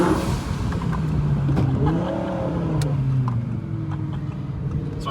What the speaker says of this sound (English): First gear rip.